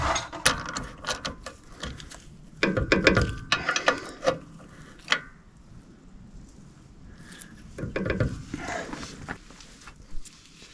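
A ratchet turns a 9/16 socket on a bolt during rear brake shoe work on a Loadstar truck, with bursts of quick metallic clicks in several runs separated by pauses and light handling noises.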